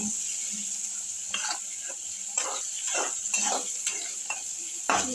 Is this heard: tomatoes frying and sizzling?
yes